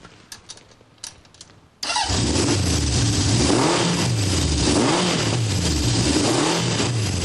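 A 1970 Honda CB750 inline-four motorcycle starts after a few faint clicks, then settles into a loud, steady idle with a rhythmic, pulsing rise and fall.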